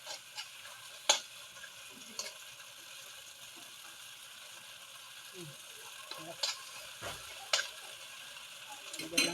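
Tofu sisig cooking in a pan sizzles softly while a utensil stirs and scrapes, producing scattered clinks and clacks at uneven intervals.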